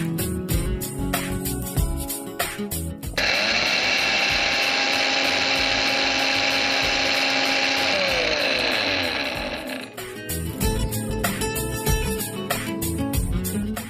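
A kitchen grinder whirs loudly as it grinds roasted ingredients into powder for a Telugu thotakura soya fry, one steady high-pitched run of about seven seconds between bursts of clattering music.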